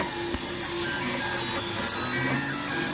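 3D printer running a test print, its stepper motors whirring steadily with shifting tones, a couple of brief clicks and a sharp squeak near the end, close and alone.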